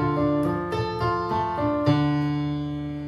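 Dangdut beat rhythm played as an arpeggio on a keyboard, each note of the chords pressed one by one in a lilting pattern, with sustained tones ringing into a held chord at the end.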